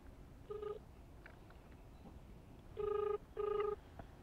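A phone rings out while a delivery rider calls a customer. A short electronic ringback beep sounds first, then after a pause two longer tones follow in close succession, clear over a low room hum.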